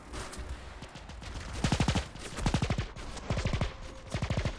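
Gunfire in the multiplayer shooter video game Minimum, several rapid automatic bursts of closely spaced shots, loud and near, separated by short pauses over busy game ambience.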